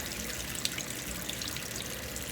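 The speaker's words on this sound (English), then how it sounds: "So just empty that green bean juice water." Canned green bean liquid drained into a kitchen sink, a steady splashing gush of water running continuously and fairly loud throughout with no talk.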